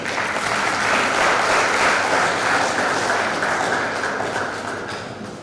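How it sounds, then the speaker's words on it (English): An audience applauds a distinguished professor at a university lecture, a full, even wash of clapping that holds steady for several seconds and then eases slightly at the end. "Another round of applause for our distinguished Professor Tunde Ogunsanwo, please."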